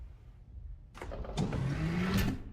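A loud mechanical door in the video game Halo 3 opens after a quiet start, with a sudden onset, a rising whirring tone and clanking accents filling the second half of the moment.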